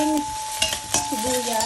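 Onions sautéing in a pan, a soft sizzle with a couple of sharp stirring scrapes and clinks, close up, with no one talking.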